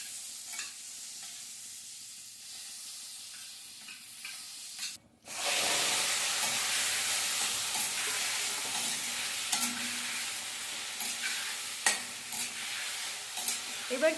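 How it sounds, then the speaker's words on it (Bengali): Chicken frying in butter in a wok, with a steady loud sizzle and hiss that surges after a brief pause near the start and continues with occasional stirring clicks, no talk. "এবার কিছুক্ষণ চিকেনটাকে বাটারে অল্প একটু ভেজে নেব।"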